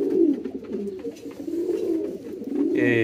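A Spanish pouter pigeon coos steadily and close by, a low, throaty, continuous rolling call that swells and dips over a few seconds without pause.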